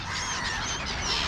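Gulls, a black-headed gull among them, calling at an evening feeding alongside crows. A continuous, fairly faint wash of overlapping honking, squawking calls carries from a distance, with no voices over it.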